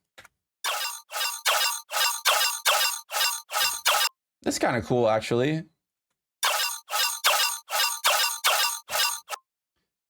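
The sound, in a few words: synthesizer layer with modulated octaves giving a robot effect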